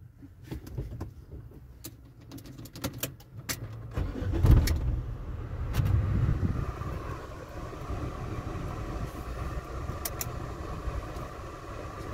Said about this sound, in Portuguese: Vocês apertam, ligam o carro.